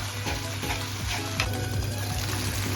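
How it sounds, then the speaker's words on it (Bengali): Boiled onions frying in oil, a loud continuous sizzle with a low hum under it and faint rhythmic scraping strokes, no talk. "পেঁয়াজের মধ্যে যে জলটা আছে ওটা টানানোর জন্য ভাজা ভাজা করে নিই।"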